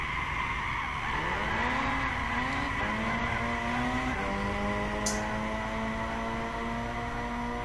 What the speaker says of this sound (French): Voiture qui dérape très facilement,